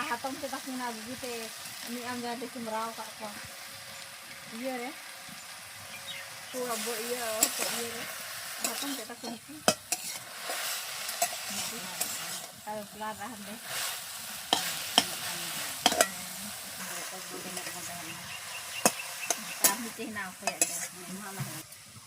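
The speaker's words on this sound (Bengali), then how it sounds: "আমার এই যে পাটের শাক ভাজা হয়ে গেছে" Jute leaves are stir-fried with salt in a pan, a soft steady sizzle under repeated scraping strokes and occasional clinks of a spatula on metal, with a voice talking at intervals over the cooking.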